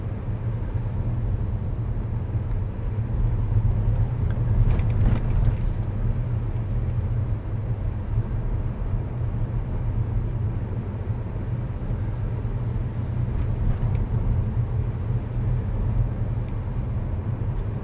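A car driving along a town road on a driving test route, a steady low rumble of engine and tyres heard from inside the cabin, with no talk.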